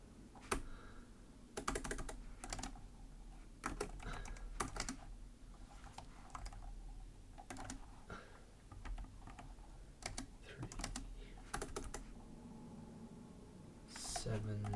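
Computer keyboard typing in a short burst of clustered keystrokes and pauses while entering a date during a website-building session, close and clear over a low background hum.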